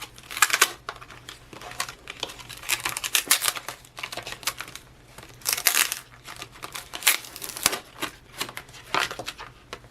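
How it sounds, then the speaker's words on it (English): A sticker peeling off a sticker book page during a sticker storage craft session gives bursts of crinkly, crackling paper noise, close and fairly quiet, coming in repeated irregular pulses. "I can go ahead and try to peel this off"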